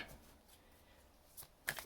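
Soft shuffling of tarot cards, mostly quiet with a couple of brief, crisp riffles near the end; no talking.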